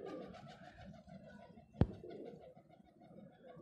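Trained pigeons coo in soft repeated low calls, steady and close, with a single sharp clap or wing snap partway through.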